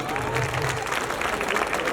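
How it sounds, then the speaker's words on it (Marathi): An audience gives a round of applause for a senior citizen woman performing a gondhal, a dense, even clapping that fills the whole moment, with a faint murmur of crowd voices mixed in. "एकदा जोरदार टाळ्या होत्या काकूंसाठी"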